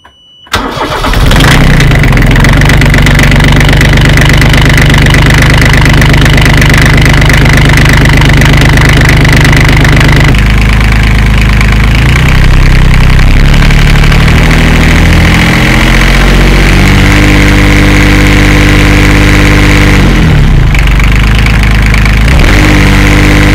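Universal M25XP marine diesel engine starting up and running, failing to reach full power at about 1900 rpm; a loud close crank then a steady knocking idle hum with a brief shift in pitch midway.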